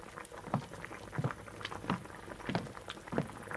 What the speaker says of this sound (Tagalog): tapusin mo tong sinigang na niluluto ko